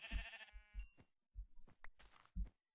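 Sheep in the Minecraft video game bleating in several short, close, quiet calls spaced out over a few seconds, with no speech.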